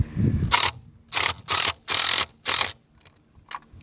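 Bolts being tightened down with a ratchet and socket on a plastic Polylock septic tank lid riser, heard as five close, loud bursts of rapid ratcheting clicks separated by short pauses, ending in a few faint clicks.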